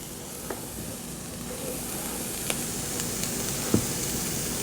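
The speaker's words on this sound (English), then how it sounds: "so I've diced up some onions over here. We're going to throw these into the pan." Diced onions sizzle gently in a pan without butter, a soft continuous hiss broken by a few light clicks and taps of stirring, fairly quiet, no speech.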